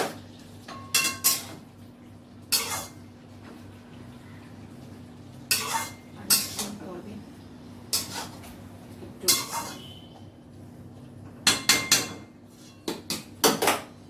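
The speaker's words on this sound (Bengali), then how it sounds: "নাড়িয়ে দিলাম" A utensil stirs food in a pot, producing intermittent clanks and scrapes of metal against the pot in irregular bursts over a quiet background hum.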